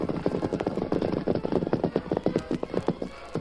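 Horses' hooves clip-clop in a steady, brisk rhythm for a radio drama scene of three killers riding through the night, the sharp knocks continuous and fairly close with no voices.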